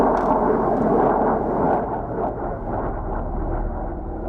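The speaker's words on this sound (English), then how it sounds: "That's the F-35." An F-35 jet flies at Edwards Air Force Base, giving a broad, steady engine roar that is loudest at the start and then eases slightly but stays continuous, with no voices.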